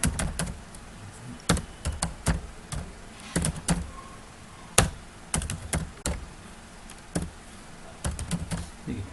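Computer keyboard keys pressed while working in MS Word, heard as sparse, crisp single taps and short clusters of clicks spread across the stretch, close and fairly quiet, with a faint background and no talking.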